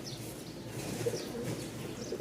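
A pair of white Lakkha pigeons cooing softly in low, murmuring bursts over a steady background hum, close by and fairly quiet, with no speech.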